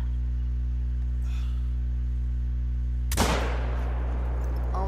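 A single loud rifle shot fired at a black bear in the hunting game theHunter: Call of the Wild, one sharp crack that decays quickly over a steady low hum.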